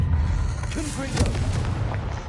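A Confringo blasting curse explodes in a Harry Potter video game: a heavy, rumbling boom over a dense low roar of battle noise, steady and close throughout.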